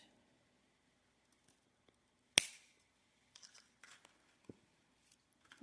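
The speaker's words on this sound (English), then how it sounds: "So we're just going to trim off these 3 wires." A single sharp snip from wire cutters trimming three wires on a handmade wire-wrap weeping willow pendant frame, followed by faint small clicks and rustles of handling; quiet and close, no talk.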